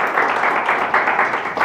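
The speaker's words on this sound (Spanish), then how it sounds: "la recibimos con un fuerte aplauso" Audience in a university lecture hall applauding to welcome a speaker, a dense, steady burst of clapping heard up close for under two seconds.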